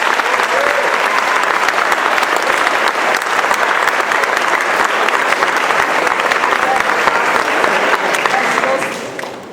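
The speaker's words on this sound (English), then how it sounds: "how about a round of applause for our 8th grade class?" Loud, sustained applause for an 8th grade class at an awards ceremony, dense clapping from a large audience that fades slightly at the end.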